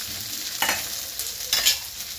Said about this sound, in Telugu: ఇది కూడా బాగా వేగాలి. వేగితేనే టేస్ట్ బాగుంటుంది.